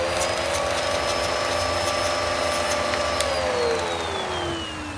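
A Bissell PowerClean carpet cleaner, a curb find with weak suction, runs with a steady motor whine and airy hum, moderately quiet and unbroken for a few seconds, with a slight drop in pitch toward the end; no speech.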